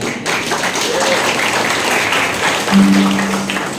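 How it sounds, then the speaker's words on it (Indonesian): An audience at a school film screening event in Batam applauds in a steady, continuous patter of clapping, with some voices mixed into the noise. "Oke, tepuk tangan dong"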